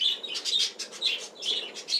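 Budgerigars chirp while being fed corn, guava and mint, giving quick, bright, overlapping twitters in close bursts that rise and fall over two seconds.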